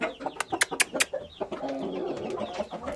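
Hens and a rooster cluck in a coop nearby, with a run of sharp, loud clucks followed by steadier, softer murmuring calls.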